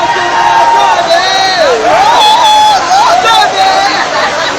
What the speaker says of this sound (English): Oh boy, c'est crowd, man.